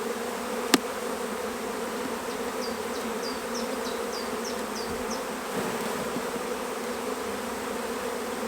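Honey bees hum in a steady, close drone on a hive frame during queen rearing, with a sharp click near the start and faint high chirps over the buzz.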